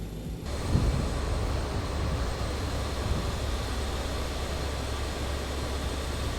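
BAe-146 jet airliner in flight, a steady broadband cabin roar of engines and airflow, even and unbroken throughout, heard alone.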